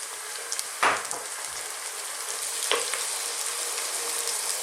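Ripe tomatoes drop into a hot frying pan of cauliflower curry with two sharp sizzling bursts, then settle into a steady crackling fry, no voices.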